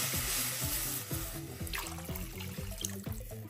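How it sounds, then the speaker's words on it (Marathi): Three glasses of water pour into a hot kadhai, a faint splashing trickle over a soft sizzle with a few light clinks, no voices. "याच कढईमध्ये आता मी 3 ग्लास पाणी टाकून घेणार आहे"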